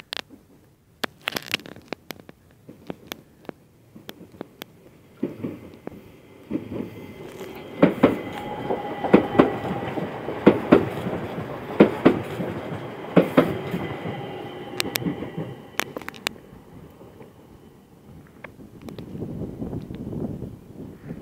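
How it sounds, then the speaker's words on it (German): An ÖBB Talent S-Bahn train on the S2 pulls into Rosenbach station, its wheels clattering in rhythmic clicks with brake squeals and rumble building in the middle, then easing as it slows. "Ja, Talent fährt jetzt wieder ein."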